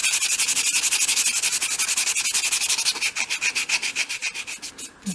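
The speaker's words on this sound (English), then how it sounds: "I've got a small piece of 240 grade sandpaper here, and I just want to very lightly sand back the top coat in areas" Light back-and-forth rubbing of 240 grade sandpaper over a wood top coat on a 1/12th scale shop project, a steady rhythmic rasp of even strokes, close and clear, slowing and spacing out toward the end.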